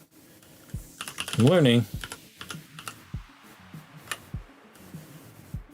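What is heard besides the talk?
typing on computer keyboard, Alt backspace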